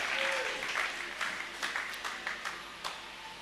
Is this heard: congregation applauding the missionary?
yes